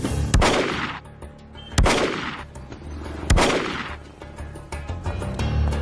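Gunshots in a movie scene ring out as three loud, sharp blasts spaced about 1.5 seconds apart, each trailing into an echoing decay, with no talking.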